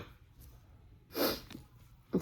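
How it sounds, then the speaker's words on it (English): A single short, sharp cough bursts out close to the microphone in a quiet room. A fainter breathy catch follows just after. "Sorry, had to cough."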